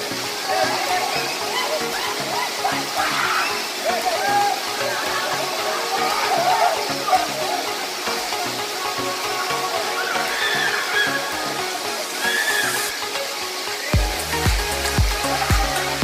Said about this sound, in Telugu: మనం జలపాతం మల్లెల తీర్థం జలపాతం కిందికి దిగుతూ ఉన్నాం